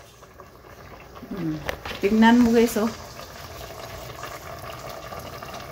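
Water bubbling at a boil in a cooking pot, a steady low hiss and burble throughout, with a voice briefly speaking over it in the middle.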